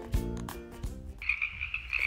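A frog croaks in a quick, buzzing, pulsed trill that runs for under a second, following a few short, thumping sounds.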